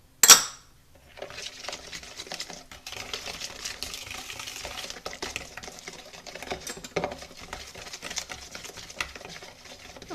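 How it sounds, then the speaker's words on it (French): Cake batter with Nescafé and vanilla sugar being stirred in a bowl, a steady run of scraping and light clattering strokes after a sharp knock at the start, close and moderately loud. "Et je vais à nouveau mélanger le tout."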